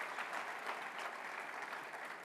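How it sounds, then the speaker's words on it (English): Sustained audience applause at a conference event in Nigeria, an even, continuous patter of many hands clapping, heard as a steady wash somewhat distant and quiet. "Round of applause for the other speakers on this program."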